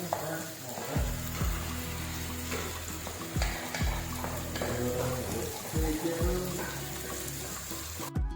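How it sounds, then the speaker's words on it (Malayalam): Steady frying hiss of onions in the oil used to fry chicken for biryani, with repeated scraping and stirring thumps from a spatula in a pan, fairly close, with no talking. "ചിക്കൻ വറുത്ത അതേ എണ്ണയിൽ തന്നെ നമ്മൾ സവാള വഴറ്റിക്കൊണ്ടിരിക്കണം."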